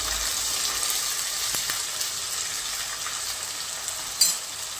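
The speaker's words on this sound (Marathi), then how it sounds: "टोमॅटो पण आपल्याला छान असं परतून घ्यायचं" Finely chopped tomatoes sauté with onion in a pan for a dry black chickpea curry, giving a steady, even sizzle throughout with one brief clink of a utensil near the end.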